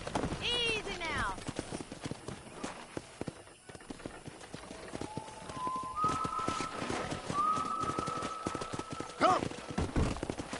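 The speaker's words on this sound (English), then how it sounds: "let's see if we can't wrangle some horses." Horses in the video game Red Dead Redemption are wrangled with rope, hooves clip-clopping under ongoing conversation, with sharp whistled tones rising and sliding through the middle and a brief whinny-like cry.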